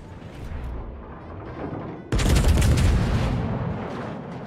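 Main guns of the Yoshino cruiser in World of Warships fire as one loud, sudden booming salvo partway through, after a stretch of quieter rumbling battle noise.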